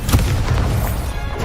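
A Confringo spell explodes in the video game Hogwarts Legacy: a loud, booming blast with a couple of heavy low thumps and a dense rumbling wash that fills the short moment, without any talking.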